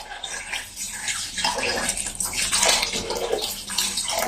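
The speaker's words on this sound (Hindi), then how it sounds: "और उसके साथ ही हम डाल देंगे इसमें पानी" Water is poured into a pot of mutton for a karela gosht dish, a loud, continuous splashing and gushing stream that rises and falls for several seconds.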